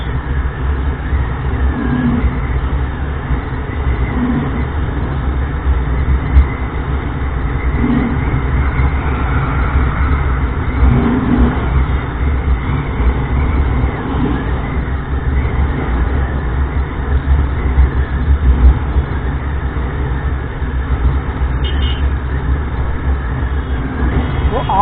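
A Honda Livo motorcycle rides along with a steady low engine drone and wind rumble throughout, muffled and fairly constant, with faint voices now and then.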